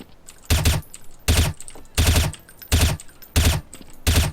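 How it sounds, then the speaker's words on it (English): Gunfire in a shooter video game, fired as two-bullet taps: six sharp, loud pairs of close shots spaced at a regular rhythm about every 0.7 seconds, with brief quiet between them and no talk. "Counter strafe out, tap fire 2 bullets."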